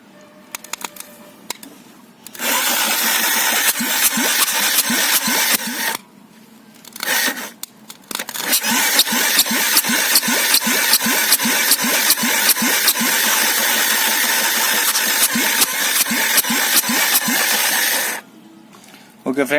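A Hero ZMR motorcycle engine is cranked over repeatedly for a compression test, giving long bursts of fast rhythmic churning broken by brief pauses, loud and close with no talk.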